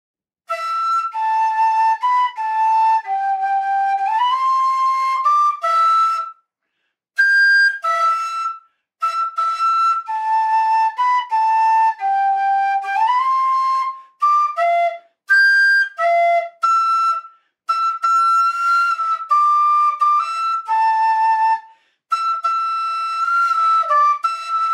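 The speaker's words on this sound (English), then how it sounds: "I'm still getting to know the whistle and its air requirements" A Goldie low G narrow-bore soft-blower tin whistle plays a melody of sustained, breathy notes and short runs with brief pauses, close and fairly loud with no talking.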